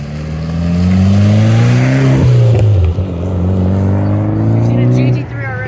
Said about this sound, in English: Oh my gosh, the drag car.